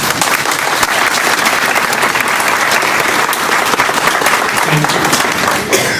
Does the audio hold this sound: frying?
no